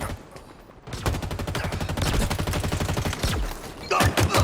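Sustained rapid-fire weapon gunfire in Halo Infinite multiplayer, a fast, loud, evenly spaced stream of shots lasting several seconds, followed by a heavier burst of shots near the end.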